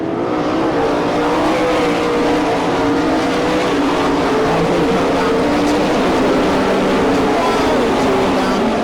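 Sprint cars of the All Stars and NCRA series roar down the front stretch of a Franklin, Pennsylvania dirt track, a loud, continuous engine drone with shifting harmonics as several cars pass close together.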